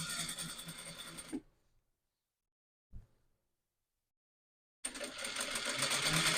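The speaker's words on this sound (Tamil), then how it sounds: "முதல்ல ஒரு தையல் 1/4 இன்ச்சு பிடிச்சி கொண்டு ஒரு தையல் போடுவோம்." A sewing machine runs a seam joining blouse lining to the main cloth, whirring rapidly, stopping for about three seconds with a single soft knock, then starting again, close and with no voices.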